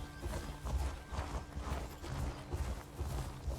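Horse hooves clip-clop steadily while riding in a PvE video game, soft rhythmic thuds repeating at a trotting pace under faint background game sound, quiet and without speech.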